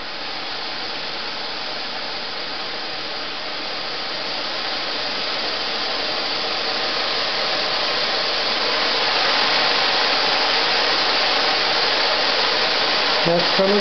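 Pressurized gas vapor rushes through a pipe as a loud, continuous broadband hiss, steady for the whole stretch and gradually swelling louder toward the end, close up with no talk.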